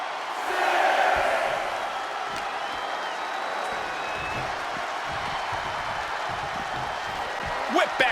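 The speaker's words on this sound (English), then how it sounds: "The crowd is fired up." Wrestling arena crowd cheering during an Undertaker match on Smackdown, a broad roaring wash of voices that swells early and stays loud, with a commentator talking over it.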